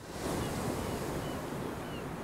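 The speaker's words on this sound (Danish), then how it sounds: "Hvis man holder en konkylie op til øret, kan man høre havet." Cartoon ocean waves heard through a conch shell held to the ear, a continuous, even, hushed rushing surf that fills the whole moment without interruption.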